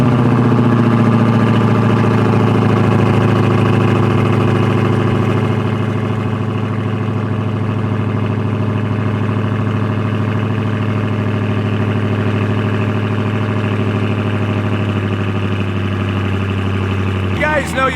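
A Dodge Challenger Redeye idles after a cold start, its loud exhaust holding a deep, steady drone close by that eases slightly over time before a brief rattle at the end.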